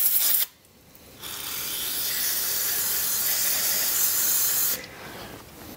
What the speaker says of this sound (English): I'm gonna give that a quick spray and try to capture it, because I don't want brake cleaner going everywhere